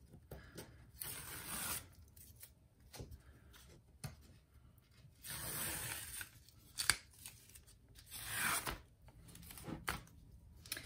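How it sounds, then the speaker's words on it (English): Masking tape peeled off a painted canvas, faint close ripping strips in several separate pulls with quiet gaps between. "So now I get to take the tape off."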